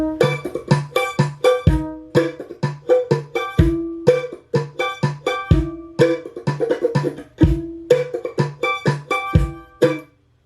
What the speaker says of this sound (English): it sounds like this with the metronome and snare going on.